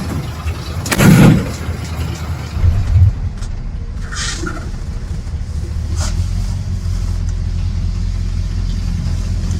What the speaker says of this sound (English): it's time to drive the 1951 F1 Ford